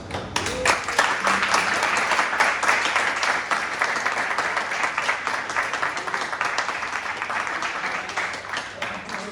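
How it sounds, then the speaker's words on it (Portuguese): Lively clapping from an audience at a hackathon pitch event, dense and continuous with some voices mixed in underneath. "Palmas."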